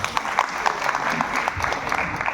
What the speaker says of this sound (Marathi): एकदा त्यांच्यासाठी जोरदार टाळ्या होत्या.